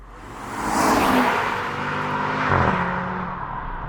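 A 2025 Audi RS3 drives along a road at speed, steady road and engine noise with a passing whoosh, tire roar filling the background throughout.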